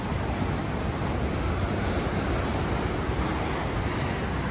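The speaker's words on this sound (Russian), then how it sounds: "А волны как плещутся." Atlantic Ocean surf washes onto the shore at a seaside hotel in San Juan, Puerto Rico, as a continuous broadband roar with steady wind noise and no distinct breaks.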